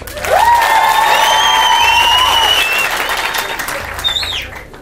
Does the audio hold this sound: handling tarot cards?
no